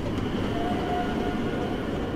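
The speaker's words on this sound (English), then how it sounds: "That's not just the train sound." Steady train rumble from the video game Underground Blossom, a continuous rolling rail-car drone with faint clickety-clack and a thin high wheel tone, heard alone and fairly close throughout.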